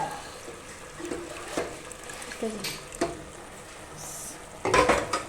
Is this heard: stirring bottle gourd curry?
yes